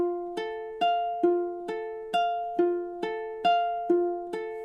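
Ukulele plucking a slow phrase of The Last of Us main theme, eleven clear notes and chords struck in a steady rhythm, each ringing and decaying, close and alone.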